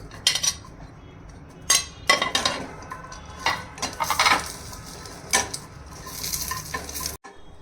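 Roasted coconut stir-fried in a pan with a little oil: a quiet sizzle broken by repeated spatula scrapes and clinks against the pan, close up, with no talk.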